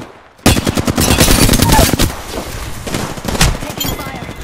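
Automatic gunfire in the Apex Legends video game: a loud, rapid rattle of shots starts abruptly and continues in dense bursts, easing slightly midway before another sharp volley, close and dominant throughout.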